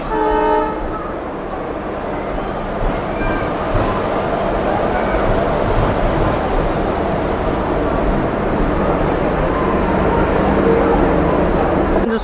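The Coromandel Express pulls into Kharagpur Junction, running late. A horn sounds briefly at the start, then a loud continuous rumble of wheels and carriages builds and holds for the rest.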